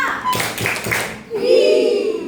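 Schoolchildren clapping in a counted classroom clapping game, a few quick claps mixed with children's voices, then a sustained tone or voice toward the end.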